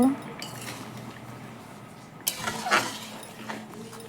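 A spoon clinks and scrapes against a pan while stirring fish roe curry after garam masala goes in, a few sharp metallic knocks around the middle, close by, over faint kitchen background.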